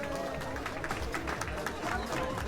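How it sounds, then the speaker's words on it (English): Audience applauding at the live Car of the Year 2019 awards ceremony, a dense, steady wash of clapping and crowd noise with no talk over it. "one more round of applause for the winner of the Car of the Year"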